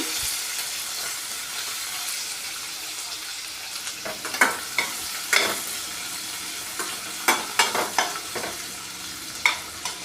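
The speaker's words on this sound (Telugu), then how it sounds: "ఇవి బ్రౌన్ కలర్ వచ్చేంత వరకు వేయించుకోవాలండి" Small chopped onions fry in oil, a continuous close sizzle broken by repeated sharp scrapes and clacks of a spoon stirring, growing busier in the second half, no voices.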